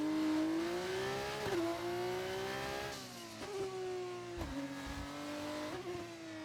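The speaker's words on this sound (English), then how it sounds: "they have turbos in the F2. You can hear it." Turbocharged Formula 2 race car engine howls at high revs, dipping briefly on gear changes near the start and midway before climbing again, loud and close with no talk over it.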